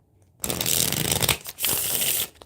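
A tarot deck is shuffled nearby in two loud bursts of fast papery riffling separated by a short pause, with no voices.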